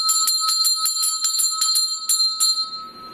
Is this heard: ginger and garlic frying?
no